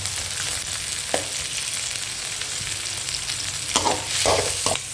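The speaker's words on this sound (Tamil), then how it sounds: "எண்ணெய் காஞ்சதும் வெங்காயத்தை போட்டு பொன்னிறமாக வறுத்துக்கிறோம்" Onions frying in hot oil until golden give a steady close sizzle, with a few scattered stirring scrapes toward the end and no voices.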